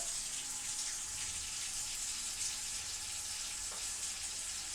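Water pours steadily from a tap fed by a gas water heater with the flow turned up, a constant broad hiss and rush heard close and alone.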